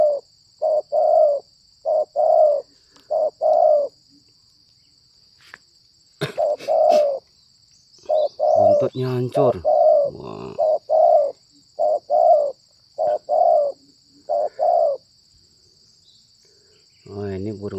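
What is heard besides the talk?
zebra dove cooing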